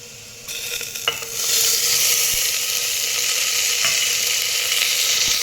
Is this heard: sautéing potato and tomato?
yes